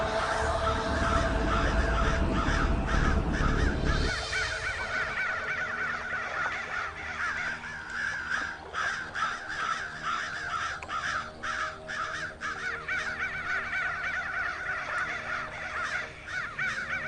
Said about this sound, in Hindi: इतना सारा कौवा उड़ रहा है